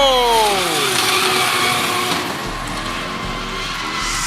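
A drift car spins out during a drift series battle, with a loud sustained tire screech over an engine whose pitch falls as the car slides, heard without talk.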